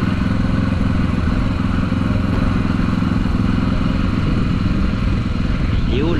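A motorcycle engine idling with the choke just taken off, a steady close low throb with light mechanical clatter running unbroken, while people talk faintly nearby.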